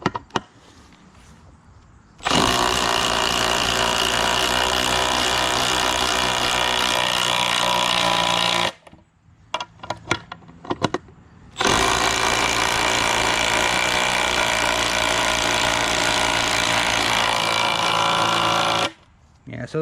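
Milwaukee M18 impact drivers drive half-inch lag bolts in two long, loud, continuous runs of rattling impacting separated by a brief pause with a few clicks.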